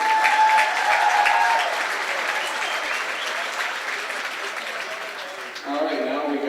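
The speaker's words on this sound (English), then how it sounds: "so big round of applause for her." Sustained applause from a crowd at a high school girls basketball game honoring a player, a dense steady wash of clapping that slowly tapers before a voice speaks over it at the end.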